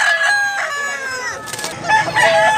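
A three-year-old Seven Brothers Tornido hatch gamecock in Tabunok, Cebu crows loudly and close, with a long harmonic call followed by a second rising crow and no voices.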